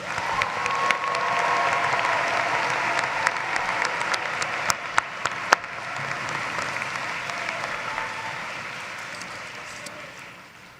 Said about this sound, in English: Let's give a round of applause for our marketing graduates.